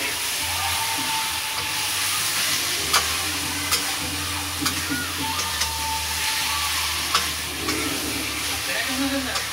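Chicken masala with chili powder frying in a pan for chicken aloo gravy, a loud continuous sizzle with repeated scraping stirs and light spoon taps, close up and with no voices.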